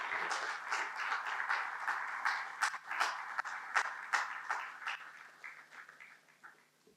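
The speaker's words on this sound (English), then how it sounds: "give him a more resounding round of applause" Audience applause at a general meeting, heard as a quiet, distant patter of many hands that fades away over several seconds.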